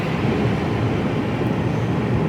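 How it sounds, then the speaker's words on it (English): Train wheels rolling on rails heard from inside a Mercedes Actros HGV cab in the UK, a steady, dense rumble that holds at an even loudness throughout. "Train wheels."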